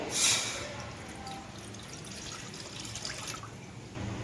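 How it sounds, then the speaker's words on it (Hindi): Water poured from a glass into a wok on a lit stove, a steady splashing trickle under a brief brighter burst at the start, continuing fairly evenly to the end. "अब हम कढ़ाई के अंदर 3 गिलास के करीब पानी ऐड करेंगे।"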